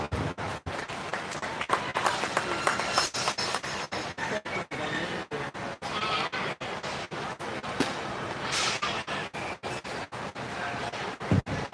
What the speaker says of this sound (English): Go ahead and give these guys a round of applause